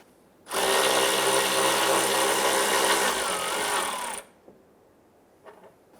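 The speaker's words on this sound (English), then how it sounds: "Once you loosen and remove this nut, the strut will want to drop down." Power tool spinning off the strut mount nut on a 2005–2010 Chrysler 300, one steady loud whirring run of about four seconds, then quiet with faint handling noises afterward.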